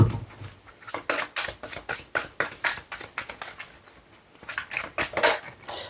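Tarot-style cards handled and laid out on a table, a rapid series of crisp slaps and shuffling snaps in an uneven rhythm, close and fairly quiet, with no talking.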